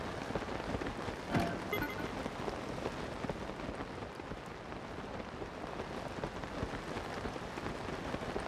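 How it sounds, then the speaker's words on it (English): Steady rain pours throughout in the video game Zelda: Tears of the Kingdom, a dense broadband hiss with scattered drop patter and one brief louder burst early on, with no talk. "Well, good thing it's just rain."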